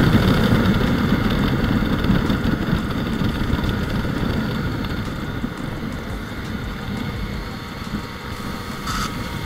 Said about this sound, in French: le son du pot même d'origine est plutôt flatteur je trouve